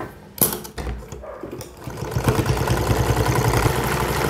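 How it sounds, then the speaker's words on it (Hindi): A sewing machine stitching a belt onto a suit, its motor starting after a few clicks and knocks, then settling into a steady, close mechanical whir. "तो इदां बैल्ट है जिहड़ी इहनां ते रख के आपां सिलाई लावांगे"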